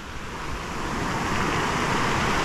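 Strong ocean surf roaring continuously close by on the Taitung coast of Taiwan, waves breaking and rushing with a broad, steady wash and some wind.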